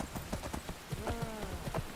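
Horse hooves clip-clopping in Skyrim, a rhythmic series of close, distinct thuds at a trotting pace over soft rain-like ambience, with no voices.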